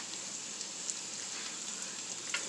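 Chopped onion frying in a pan for chuleta a la mexicana, a steady, even sizzle with faint crackles, close and alone with no voices.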